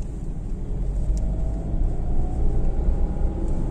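A Tata Altroz 2021 loaded with five people and full luggage climbs a mountain road in first gear, its engine giving a steady low rumble that holds throughout with no voices.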